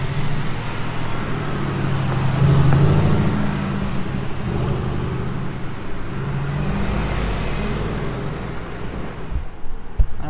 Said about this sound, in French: Une AMG GTR qui arrive